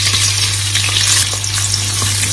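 Shrimp frying in a hot pan for a stir-fried curry-powder shrimp dish, giving a loud, steady, close sizzle over a constant low hum, with no talking.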